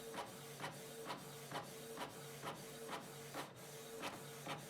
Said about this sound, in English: As it's the first time printing, it might take a while.